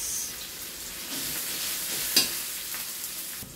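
Garlic sizzles and crackles steadily in hot oil in a pan, a close hiss with a spoon or spatula stirring through, one sharper clink partway and a scrape near the end.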